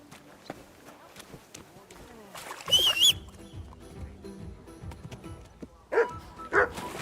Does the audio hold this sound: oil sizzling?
no